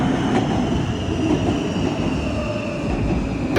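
A train arriving at a station rumbles steadily nearby with a continuous low roar and faint metallic wheel squeal, no voices over it.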